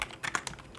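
Keys clacking on a computer keyboard as an address is entered, a quick irregular run of five or six distinct taps, close and fairly quiet, with no voices.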